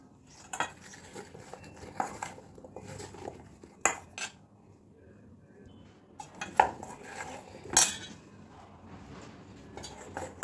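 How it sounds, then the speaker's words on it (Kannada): Corn flour batter for baby corn Manchurian being mixed in a bowl, with a spoon clinking and scraping against the metal in scattered, irregular strokes and short pauses between them, fairly close and moderately quiet, with no talking. "अभी हम इसको मिक्स करेंगे."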